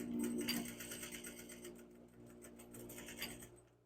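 A sewing machine stitches a shirt collar with a quiet, steady rapid rattle of needle strokes that continues throughout, with no talk.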